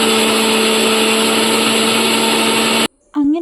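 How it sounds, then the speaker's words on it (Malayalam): A mixer grinder whirs loudly and steadily while grinding ingredients for homemade hair oil, then cuts off abruptly near the end, after which a voice briefly speaks. "ഞാൻ നന്നായിട്ട് മിക്സിയിലിട്ടിട്ട് അരച്ചെടുത്തിട്ടുണ്ട്"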